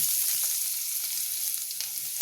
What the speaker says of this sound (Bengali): জিরে, হিং আর রসুনটা ভাজা ভাজা হয়ে গেছে